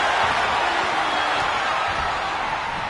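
Wrestling arena crowd in WWE 2K25, a dense, steady roar of cheering that fills the whole clip at high level without pause.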